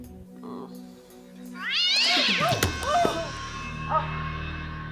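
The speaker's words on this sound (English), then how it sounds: "It's just a cat." A domestic cat meows several times, rising and falling calls close by in a quiet indoor room.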